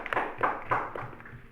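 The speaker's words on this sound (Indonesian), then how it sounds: "beri tepuk tangan temannya." Students in a classroom clap for a classmate, a short, soft burst of a few loosely timed claps heard at moderate distance.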